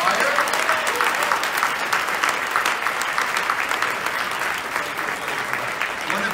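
An audience claps steadily through a university alumni awards ceremony, a dense, sustained round of applause filling the hall from start to finish.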